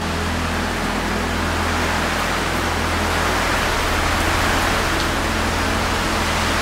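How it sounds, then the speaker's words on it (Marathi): Steady, dense roar of heavy monsoon rain pouring down close by at a hill fort gateway, broadband and unbroken throughout, with a low hum underneath. "इथे जोरदार पावसाने आमचं स्वागत केलं"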